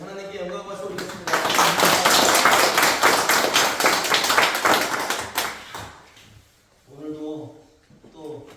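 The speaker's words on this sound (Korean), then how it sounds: "우리 하나님께 영광과 박수 올리겠습니다" Congregation applauding during a Korean church worship service, a loud burst of many hands clapping for about four seconds before fading, followed by someone speaking.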